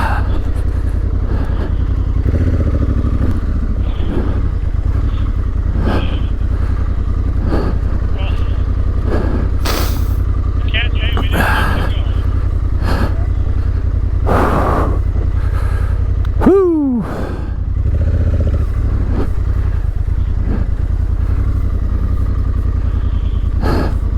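A dual sport motorcycle rides off-road up the Molalla River in Oregon, its engine droning loud and close throughout with surges and shifts, plus a brief dip and falling tone near the end, and occasional knocks and bumps over the trail.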